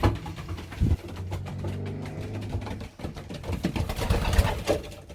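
Pigeons coo in a loft among many young birds, several soft rolling calls overlapping at close range, with some bumps and shuffling of the birds.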